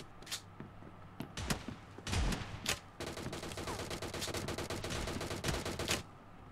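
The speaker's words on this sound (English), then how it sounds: "This is a two-barrel, double-barrel shotgun." Double-barrel shotgun fire in the video game BGMI during a Gun Game mode match: a few sharp, separated blasts, then a dense rapid burst of gunfire before it goes quiet.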